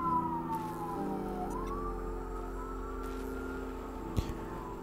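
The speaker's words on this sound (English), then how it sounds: "Those sirens are getting loud." Police sirens pass along a main street outside, a wailing tone sweeping up and down at moderate distance, steady over a low background hum with a brief knock near the end.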